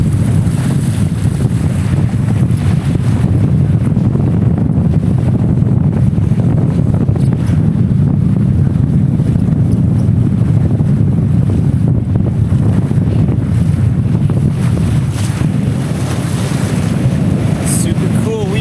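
A sailboat crossing from the Bahamas to the USA moves under motor through wind and waves. A steady, loud low rumble blends with constant buffeting wind on the microphone and water rush.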